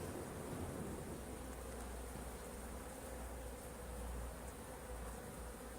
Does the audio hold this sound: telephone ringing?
no